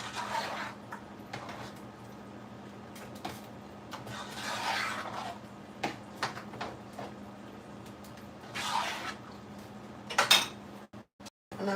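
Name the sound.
stirring a simmering pot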